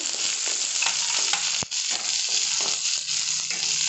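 Chopped onions hit hot oil in a pan with cooked dal and cumin and fry hard. A loud, steady sizzle lasts throughout, broken by close stirring scrapes and one sharp knock.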